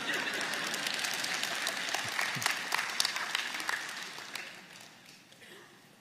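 Dense audience applause fills the room at a talk, steady at first and then thinning and fading toward the end, with scattered sharper claps standing out.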